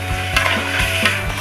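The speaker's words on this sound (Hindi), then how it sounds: "अब इसके अंदर 1 प्याली दही डाल देंगे और अच्छी तरह इसकी चिकन की भुनाई करते हैं।" Chicken and a cup of yogurt browning in a pot, a steady close sizzle with soft stirring scrapes and light knocks recurring every few tenths of a second.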